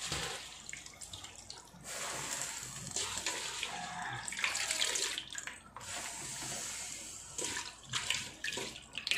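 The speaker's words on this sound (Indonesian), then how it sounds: "Airnya sudah mendidih." Salted water boiling in a cooking pot for lembayung leaves, a faint, steady bubbling and rushing churn that swells and dips without pause, with no voices.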